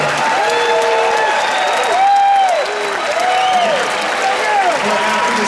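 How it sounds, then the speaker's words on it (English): Audience applause at a TubaChristmas concert by the Kansas City Symphony, a dense, steady wash of clapping from a crowd, with some voices mixed in. "if there is thunderous applause, we may or may not have an encore"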